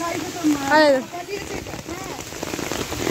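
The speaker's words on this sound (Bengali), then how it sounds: "কি অবস্থা দেখো, চারিদিকে বৃষ্টি বৃষ্টি," Rain falls steadily outdoors near a village shrine, a continuous patter on surfaces. A voice speaks briefly near the start and stays audible over the rain.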